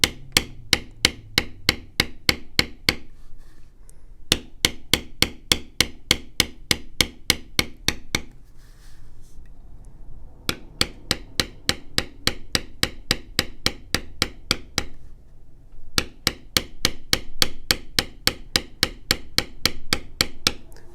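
A mallet striking a metal leather beveling tool in fast, even taps, sharp and close, in long runs separated by short pauses.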